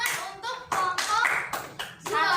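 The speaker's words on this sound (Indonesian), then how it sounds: "Mari kita beri tepuk tangan untuk kelompok" Classroom of children clapping for a group during a lesson, a few quick bursts of hand claps close by, with the rhythm breaking up into separate rounds over a couple of seconds.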